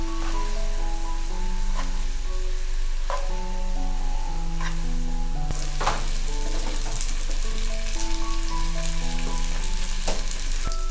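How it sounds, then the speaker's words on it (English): Garlic spaghetti in a hot pan sizzles steadily as pasta water and soy sauce hit the pan, a loud close hiss with stirring sounds under soft background music. "Now pour in about 3 ladles of the pasta cooking water."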